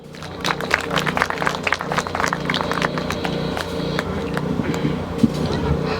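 An audience at a groundbreaking ceremony for a residential tower claps for a guest speaker. Steady, dense applause of many hands keeps going for several seconds, loud and fairly close, then tapers slightly near the end.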